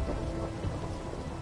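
Rolling thunder mixed with steady rainfall during a Minecraft rainstorm, a continuous loud rumbling wash with no voices.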